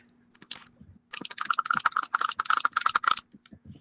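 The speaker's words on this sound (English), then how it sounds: "Typing." Rapid typing on a computer keyboard, close and distinct, a few isolated key taps followed by a quick burst of clicky keystrokes that trails off, with no talking over it.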